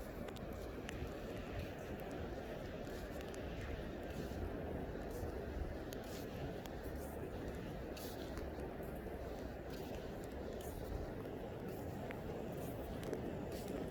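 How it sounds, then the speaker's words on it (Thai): Strong evening wind at the sea roars steadily against the microphone, a constant low rumbling buffet that stays at the same level throughout, with faint splashes and crackles over it. "ได้ยินเสียงลมไหมคะ"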